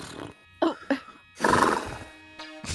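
A person's voice imitates a horse neighing in several short, close whinnying bursts, with a longer rough neigh in the middle and brief pauses between them.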